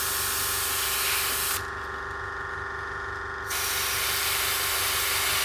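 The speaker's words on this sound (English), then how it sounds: "Just air drying it, just pushing air through the airbrush just to dry it off a little bit." An airbrush pushes a steady hiss of air to dry a layer of acrylic paint, a continuous close spray that briefly softens for a couple of seconds before returning to full strength.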